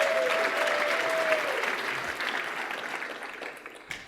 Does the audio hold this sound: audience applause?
yes